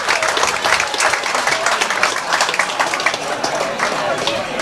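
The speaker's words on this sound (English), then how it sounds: "So I think Chalky does deserve a really good applause" Dense audience applause fills the hall at a 1998 school 50th anniversary celebration, loud and continuous with crisp overlapping claps throughout, and no voices over it.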